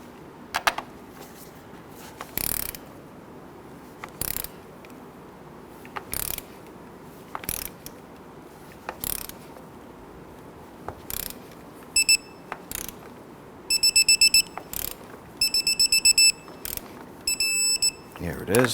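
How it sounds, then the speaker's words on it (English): Torque wrench ratcheting in short clicking bursts while tightening the engine mount nuts on a 2017-2020 Hyundai Elantra, with repeated metallic ticks growing denser toward the end, mixed with handling clunks in a garage. "we'll torque down these 3 to 47 foot-pounds"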